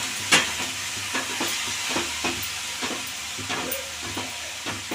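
Tomatoes stirred and sizzling in a hot pan of oil with coriander for a tomato-coriander chutney: a steady close frying hiss broken by regular scraping stir strokes, with no talking.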